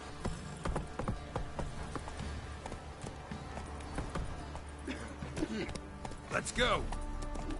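Roach, Geralt's horse in The Witcher 3: Wild Hunt, gallops with steady, rhythmic hoofbeats, while someone shouts briefly and other voices speak over the hooves near the end.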